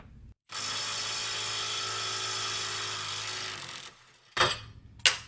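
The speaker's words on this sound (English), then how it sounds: "So the M12 Fuel had no problems taking that off with lubrication at 250 foot-pounds." Milwaukee M12 Fuel stubby impact wrench breaking loose a lubricated fastener torqued to 250 foot-pounds: a loud, steady mechanical hammering buzz for about three seconds, then a pause and two short bursts of impacting.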